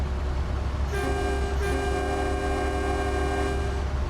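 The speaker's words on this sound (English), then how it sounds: "You've been chased by a train, bud." A train rolls past in Euro Truck Simulator 2, its horn sounding in loud sustained blasts from about one second in, with a short break before the horn resumes and holds to near the end, over a steady low engine rumble.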